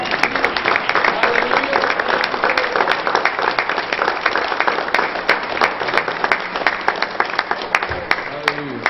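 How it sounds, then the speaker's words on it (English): A church congregation claps in praise during an evening Pentecostal service, a steady, close wash of many hands with sharp individual claps standing out. Talk and music sit underneath. "Give the Lord a hand clap of praise."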